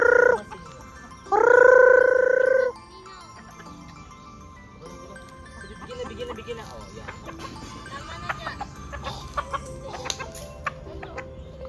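Native chickens on a farm give two loud, drawn-out calls close by at the start, followed by quieter rustling, scratching and scattered sharp clicks.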